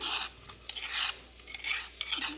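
Crushed garlic and ginger stirred into onions frying in a pan for pork sukka, with a steady scraping stir and light sizzle in close, repeated bursts, no voices.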